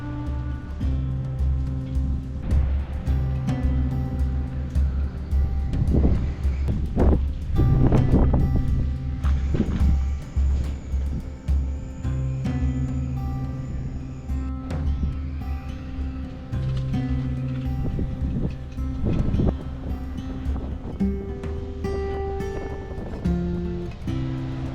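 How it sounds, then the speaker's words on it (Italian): Strong gusty wind buffets the microphone with deep rumbling, while rough ocean surf surges and crashes in the background throughout, at Tacoron near La Restinga. "Quanto vento e quanto è arrabbiato l'oceano."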